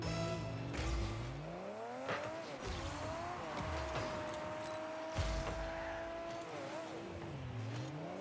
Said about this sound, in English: this engine sound is abysmal.